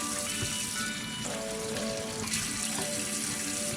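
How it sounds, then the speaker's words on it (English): Eggs washed under a running kitchen tap while an asparagus soup is being made, a steady splashing stream of water hitting the shells and sink without pause, close and fairly loud. "Then we wash the eggs."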